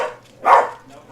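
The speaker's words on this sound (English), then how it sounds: "All 3 of them are going to bark now." A single short dog bark rings out close by, one sharp yelp among a household of three dogs, with quiet around it.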